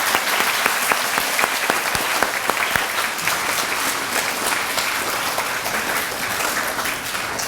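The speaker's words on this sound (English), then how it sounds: "Let's give all our graduates one more round of applause." Parents and guests at an elementary school D.A.R.E. graduation ceremony give the graduates a sustained round of applause, dense and even, filling the room with steady clapping and a few louder claps near the front.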